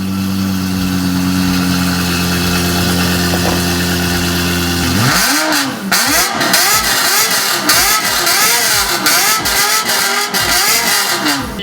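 A Lexus LFA with an aftermarket straight-pipe exhaust idles with a steady low drone, then revs hard in a rapid run of sharp, rising and falling blips, loud and close.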